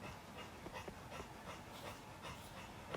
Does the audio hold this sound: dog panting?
yes